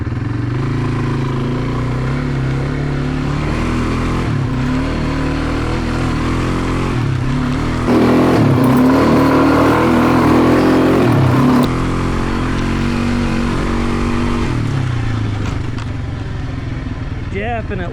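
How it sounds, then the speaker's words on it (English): A Kawasaki Brute Force 300 ATV engine revs up and down repeatedly while weaving through a slalom, with rhythmic surges in a loud, close mid-pitched drone. "I'm going to start the slalom at the Kawasaki."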